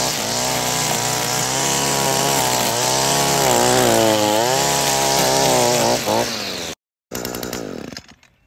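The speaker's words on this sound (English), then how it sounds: "It does rev up great, so it keeps a good, powerful, clean cut the whole time." An ECHO 21.2 cc gas string trimmer and edger roars close by, its pitch rising and falling as it revs. It cuts out abruptly, then sputters back briefly before fading.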